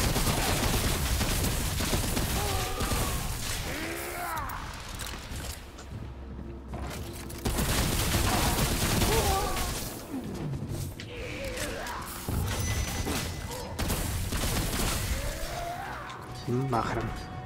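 Video game gunfire crackles in repeated loud bursts and volleys over a busy mix of game noise, with a voice speaking in places.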